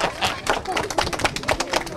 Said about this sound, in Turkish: Evet, alkışlayalım.